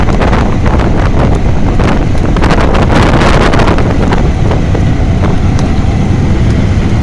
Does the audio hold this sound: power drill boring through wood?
no